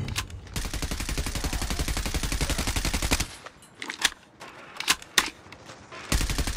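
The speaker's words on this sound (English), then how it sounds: "Be advised, hostile sentry gun spotted." Rapid automatic fire from a sentry gun in a Call of Duty multiplayer match, a dense loud continuous burst for about three seconds, then scattered single shots and short bursts, with another sustained burst resuming at the end.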